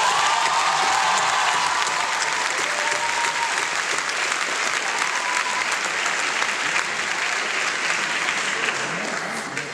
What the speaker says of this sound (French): Je vous demanderai donc de les applaudir car votre réussite est la leur également.